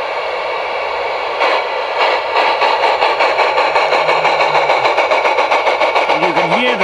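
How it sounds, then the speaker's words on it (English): G-scale radio-controlled three-cylinder Shay locomotive model with onboard sound plays a rapid, evenly pulsing chuff, steady and fairly loud, with a faint tonal hum and a brief warbling tone near the end. "you can hear the three cylinders going"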